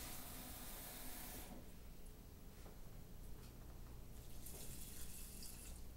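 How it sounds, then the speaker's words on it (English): Water pours steadily into a pot for cooking plain Persian rice, a soft continuous rushing hiss that stays faint and even with no voices. "Add just as many cups of water that you have cups of rice, plus 1 more cup of water."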